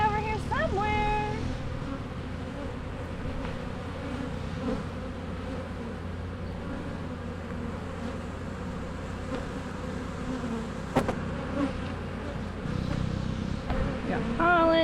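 Honey bees swarm around an open hive of frames holding pollen, nectar and larvae, a dense, steady close buzz with individual bees whining past, brief faint clicks, and occasional background voices.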